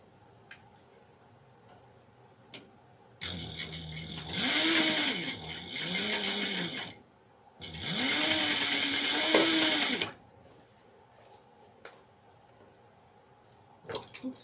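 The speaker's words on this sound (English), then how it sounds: "And then you're going to sew this at a 1/4 of an inch seam." Sewing machine running a quarter-inch seam in two bursts of rising and falling motor whine with rapid needle ticking, close up, separated by a short pause and followed by quiet handling.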